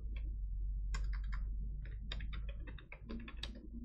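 Computer keyboard typing while Excel conditions are entered, a steady run of quick light key clicks close by over a low constant hum, with a few brief pauses between bursts.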